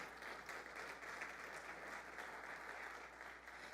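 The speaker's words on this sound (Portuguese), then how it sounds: "Você pode aplaudir o Senhor com isso," A church congregation claps together in praise, a sustained, even wash of applause that sounds somewhat distant and soft.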